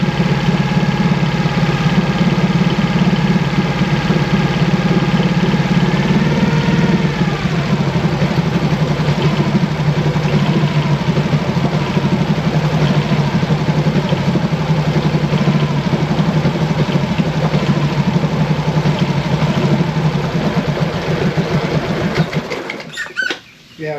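Mercury 25hp four-stroke EFI outboard engine running steadily for about 22 seconds after being throttled back down, a loud continuous low drone with a slight pitch drop early on, then cutting out near the end.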